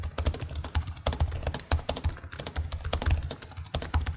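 Keys on a Razer Blade 16 gaming laptop keyboard clatter in a fast, continuous run of clicky, close-up keystrokes, with heavier thocks at regular intervals and no voices.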